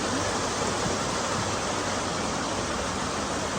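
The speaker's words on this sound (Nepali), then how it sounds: "यसरी झर्ने पानी पनि छ" A small waterfall spills at an amusement park, a steady, even hiss of falling water that holds constant throughout, moderately loud with no other sounds on top.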